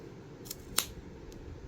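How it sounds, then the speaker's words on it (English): Sharp pointed scissors pushed between the discs of an Addi 46 knitting machine, giving a couple of quick metallic clicks and one crisp snap close up in a quiet room. "Need some sharp scissors that have a good point on them. You're going to stick it in there like that."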